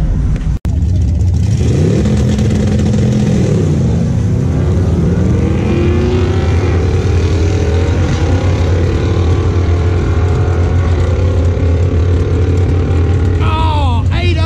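A drag car fitted with a 4L80E transmission and a low-budget torque converter launches on a test pass, its engine roaring and climbing steadily in pitch as it pulls hard down the strip. The run stays loud throughout, with voices near the end.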